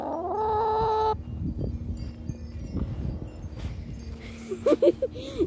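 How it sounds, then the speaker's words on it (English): Chickens cluck and squawk at close range, with a few sharp calls near the end and a brief humming tone at the start. Scattered rustling and background noise run underneath. "Run, run, run away from the chicken. The chickens are attacking."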